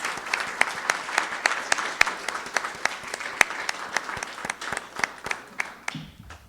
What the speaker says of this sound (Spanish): Vamos a brindar un aplauso al doctor Juan Castells.